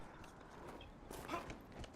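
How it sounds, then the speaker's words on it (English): Horse hooves clip-clopping in Dragon Age: Inquisition, a quiet, steady walking rhythm of in-game footfalls, with a brief faint swell near the middle and no one talking. "Call the horse again."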